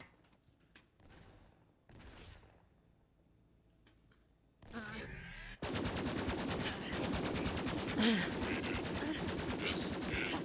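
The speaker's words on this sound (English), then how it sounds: "I'm in an endless gunfight, and I'm running out of ammo." A Borderlands 3 gunfight with Moze the Gunner starts with sparse scattered shots, then rises into continuous loud rapid machine-gun fire that fills the last half.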